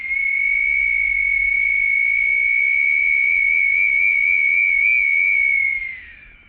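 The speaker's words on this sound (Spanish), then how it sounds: "aquí vamos a mostrar la réplica que ya está con el sonido, con los silbatos arreglados" Replica ancestral whistles from the Pumapungo Museum sound one long, loud, steady high tone of about six seconds, wavering slightly before it bends downward and fades at the end.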